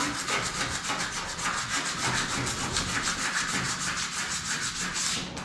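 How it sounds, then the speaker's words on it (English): A scraper pushing excess wax off a ski base, a continuous rough rasping scrape with fast repeated strokes, close and steady throughout. "this is how you push wax off your ski"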